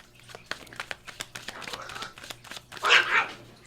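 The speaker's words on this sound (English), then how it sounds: "my dogs are fighting over a piece of bread" Dogs squabbling over a piece of bread, with a run of sharp close yips and barks followed by a louder growling scuffle at the end, heard indoors.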